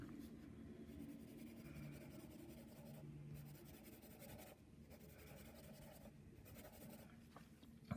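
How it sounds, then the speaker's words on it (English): A pencil writes and lightly shades on paper during a fractions lesson, a steady close scratchy rubbing that runs almost without pause, with brief lifts of the lead and no talking. "Let me grab a pencil."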